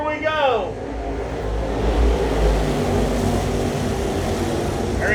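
Late model race cars at Cochran Motor Speedway roar under power on the restart, a loud, continuous engine drone with a rising whine early on, while an announcer talks over the noise.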